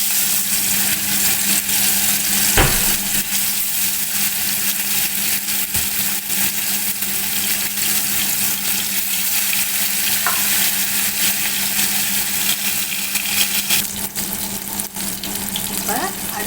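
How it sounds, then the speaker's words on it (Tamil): Chettinadu-style fish fries in hot oil, producing a loud, dense, continuous close sizzle and bubbling that barely changes over the whole stretch, with a brief knock early on. "எண்ணெய் காஞ்சிருச்சு. ஒன்றா பொரிச்சு எடுக்க போகிறோம்."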